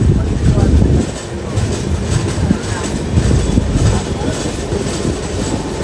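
A passenger train rolls into Tenali station in Andhra Pradesh, heard as a loud, close, steady rumble with rhythmic clatter of wheels over rail joints throughout.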